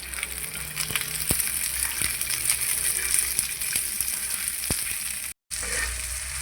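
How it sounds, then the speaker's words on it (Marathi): Chopped onion fries in a spoonful of oil on a hot tawa over a gas flame, browning toward pink for a chickpea curry: a steady, close sizzle with a few faint clicks and a brief drop to silence near the end. No one speaks. "त्यामध्ये एक चमचा तेल टाकून मी कांदा गुलाबी रंगावर येईपर्यंत भाजून घेणार आहे"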